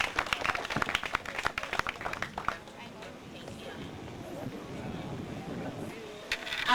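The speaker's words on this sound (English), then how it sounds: "Let's give Hannah another round of applause." Applause from a pitch-night audience in Freetown: dense clapping from a crowd, loudest at first then thinning into scattered claps, with a voice speaking over it.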